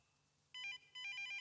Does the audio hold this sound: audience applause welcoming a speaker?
no